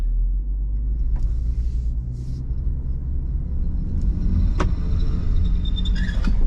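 Range Rover SUV on rollers in a low traction launch test with only the right front wheel on the ground, a steady low engine and drivetrain rumble that swells slightly as it pulls away, with a few brief clicks.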